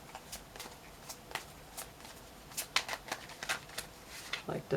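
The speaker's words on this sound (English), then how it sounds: "I like to shuffle thoroughly" Soft, irregular riffling and snapping of tarot cards being shuffled, close by, in short bursts with brief pauses.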